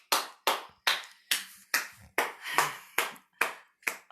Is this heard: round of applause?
yes